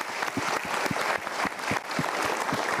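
A studio audience at a motivational talk show breaks into loud, sustained applause, a thick wash of clapping with a few distinct claps standing out close by.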